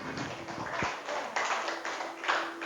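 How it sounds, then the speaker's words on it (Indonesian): Students in a classroom clap for a student group after its presentation, a dense patter of hand claps running throughout with overlapping voices and background chatter. "tepuk tangan untuk kelompok 3."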